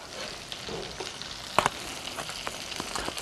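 Sausage gravy bubbling and reducing in a pan, a steady low sizzle and bubbling with a few sharper pops and clicks, close and moderately quiet, with no talking.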